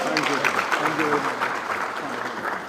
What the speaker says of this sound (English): Let's give our Cabinet Secretary a round of applause.